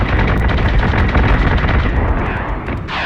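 Ship weapons firing in the space combat game Battlestar Galactica Deadlock: a loud, dense barrage of booming blasts and rapid gunfire that rolls on continuously, with no talk over it.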